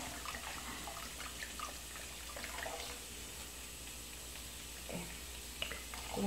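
Cachaça being poured into a pot of quentão, a soft continuous liquid trickle and splash at low level with faint kitchen background, no talking.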